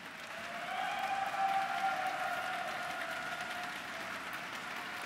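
An audience claps in a hall to vote for the red corner at a startup pitch competition, a steady wash of applause that swells early and holds through, with no talk over it.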